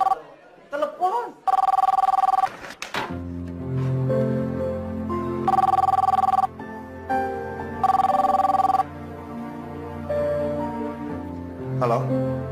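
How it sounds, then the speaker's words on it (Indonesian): Indoor telephone ringing in repeated loud bursts with pauses between them, alongside other sounds, in a house setting. "Pakai teleponnya diangkat dong."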